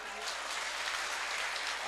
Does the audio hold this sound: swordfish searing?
no